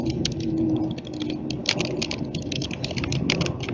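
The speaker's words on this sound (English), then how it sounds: "I can hear some typing going on." Rapid, irregular clicking of keys on a computer keyboard, steady and close, over a low rumbling background hum.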